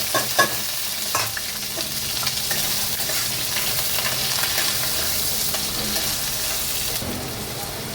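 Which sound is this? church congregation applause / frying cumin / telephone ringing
frying cumin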